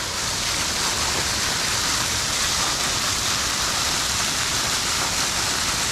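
A waterfall in the Şuğul Valley gorge pours with a loud, steady, dense rushing roar that stays even and unbroken throughout, with no voices.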